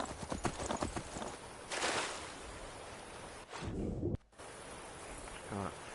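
Horse hooves clip-clopping in the video game Skyrim, a quick rhythmic series of close hoofbeats, followed by a whoosh and a brief neigh, with a person talking over parts of it.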